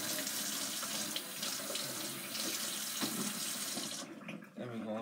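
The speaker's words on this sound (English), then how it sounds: "Okay, let's rinse it off." Tap water runs steadily into a kitchen sink as a spoon is rinsed under it, a continuous close splash that cuts off near the end.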